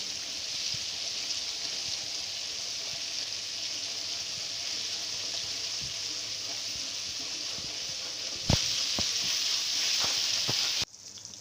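Gram flour and spices frying in a pan for kari pakora, a steady broadband sizzle running throughout with occasional sharper crackles and pops near the end, close and fairly loud.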